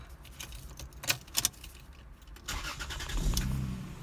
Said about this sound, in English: So now I'm able to actually get it started because the shaft now fits into the ignition switch